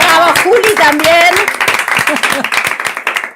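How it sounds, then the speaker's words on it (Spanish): Studio audience applauding and cheering for a guest on a radio show set, dense clapping under voices that fades into scattered, thinning claps toward the end. "Primero le vamos a dar un aplauso a Male."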